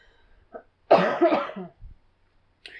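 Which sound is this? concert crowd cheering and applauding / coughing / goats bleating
coughing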